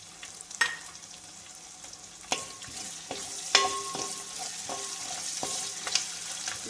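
Curry leaves frying in hot oil for a beef pickle, a steady close sizzle with a few sharp crackles and pops and occasional stirring clinks, no talking.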